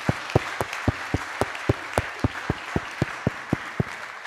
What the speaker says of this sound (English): So a huge applause for both of you.